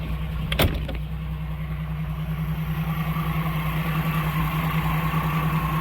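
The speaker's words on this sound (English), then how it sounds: "And I do have a rough idle" A car engine idles roughly up close, a steady low drone with a slightly uneven, pulsing beat, and a brief sharp knock near the start; the engine runs alone without talk.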